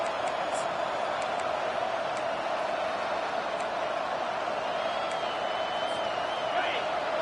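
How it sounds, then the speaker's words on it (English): A stadium crowd at a UCLA football game roars steadily on a defensive third down, a dense sustained wall of cheering and noise with a commentator's voice faintly under it. "Decibels rising as the crowd gets behind this defense on third down."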